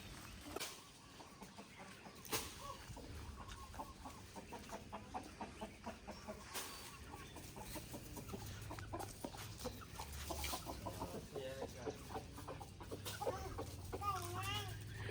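Small chickens clucking in a home vegetable garden in Thailand, with faint, scattered repeated clucks under ongoing speech, with a voice talking throughout.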